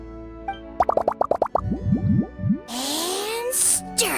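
A rapid series of about ten bubbly plops as lizard tails, fish scales, mucus and slime condensate drop into a drink in Genshin Impact, followed by a swirling liquid rush and a bright chime.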